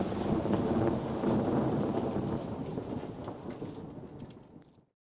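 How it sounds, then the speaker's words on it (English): Heavy rain pours steadily while low thunder rumbles through it, with a close lightning strike cracking, the storm gradually fading away toward the end; heard out on the water. "there was a big bolt of lightning hit close by here and it cracked"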